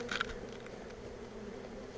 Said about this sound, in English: This has got a lot of bees in it.